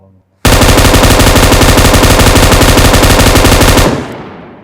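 Sustained heavy automatic fire from an M2 machine gun in the mobile game PUBG Mobile, a loud unbroken burst of rapid rounds lasting over three seconds, then cutting off into a brief echoing tail.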